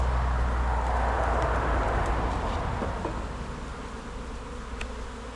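Steady, dense buzzing of many honey bees close by at their hive, a continuous drone that softens slightly toward the end, with no talking.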